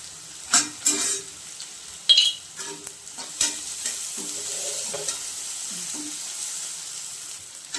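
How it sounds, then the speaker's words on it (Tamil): Onion and garlic, with a pinch of asafoetida, sauté in a pan for a cluster bean stir-fry: a steady, close sizzle broken by several sharp spatula scrapes and stirring knocks, with no speech. "வெங்காயம், வெள்ளைப்பூண்டு நல்லா வதங்கிடுச்சு."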